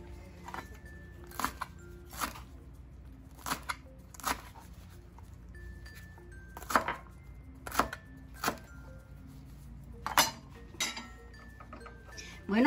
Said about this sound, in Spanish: Bueno, ya está el cilantro picado